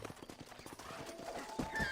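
Horse hooves clip-clop in a steady rhythm with a whinnying neigh near the end, from a horse in the Red Dead Redemption video game, close and fairly loud over background game sounds.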